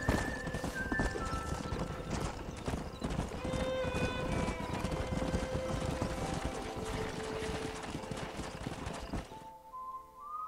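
Continuous rapid hoofbeats of a galloping horse in the video game Red Dead Redemption 2, with occasional whinnies and tonal game sounds layered on top, ending abruptly into quieter ambience.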